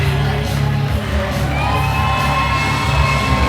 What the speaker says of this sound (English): Listen to the crowd, Rockstar. They love this.